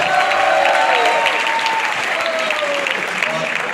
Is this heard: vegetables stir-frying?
no